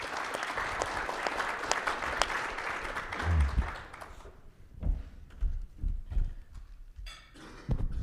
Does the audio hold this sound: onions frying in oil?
no